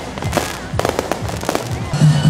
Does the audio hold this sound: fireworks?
yes